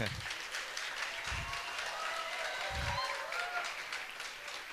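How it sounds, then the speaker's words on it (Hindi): An audience claps steadily to welcome a speaker at a testimony event, the applause sustained throughout with a few low thumps and voices murmuring underneath. "आप लोग सब लोग उन ताली बजा के उनका स्वागत करें।"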